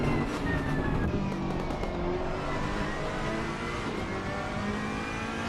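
Race car engine at full throttle during a Zandvoort GP race in Assetto Corsa Competizione, a loud steady roar with rising revs and gear shifts, continuous throughout, no talk.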